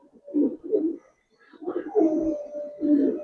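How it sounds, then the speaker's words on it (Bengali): A Giribaz pigeon coos close by in a few soft, low, throaty phrases, with a short pause before a longer rolling coo and no speech. "এটা সম্পূর্ণ জাম্পায়ের কবুতর"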